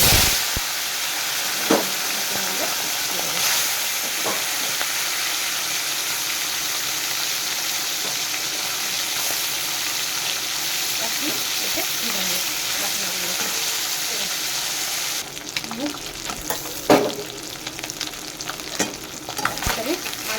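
Fish frying in hot oil in a home kitchen crackles and sizzles continuously, with occasional sharper pops and clatters of handling, and a slight change in texture toward the end.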